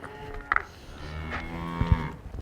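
Cattle moo in a pen during low-stress sorting, with a deep, drawn-out bellow at moderate distance amid a few brief knocks and other farmyard sounds.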